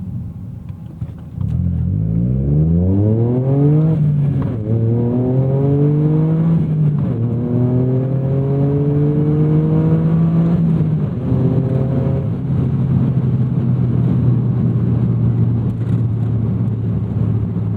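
A JDM rally car of about 3,200 pounds and 300 horsepower pulls at full throttle, its engine note climbing hard and dropping back at several upshifts, loud and steady from inside the car with no talking.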